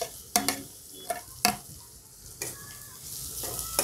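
Onions sautéing in a pan with ginger, green chili and garlic paste: steady soft sizzle broken by several sharp scraping stirs of a spoon, close and clear, no talking.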